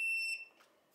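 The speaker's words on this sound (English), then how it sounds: "all the pages have changed to the beep working mode" A TD183 restaurant-style paging system pager sounding in beep mode, a single bright electronic tone that rings briefly and then fades away into near silence.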